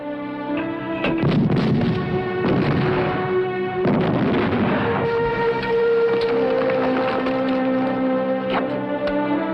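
Artillery and gunfire from a war film about the desert battle of El Alamein: loud booming bursts land at uneven intervals, some close together, over a steady droning hum that runs throughout.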